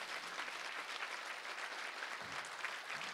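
Audience at an MLK luncheon awards ceremony giving the recipients a steady, dense round of applause, fairly faint and even throughout.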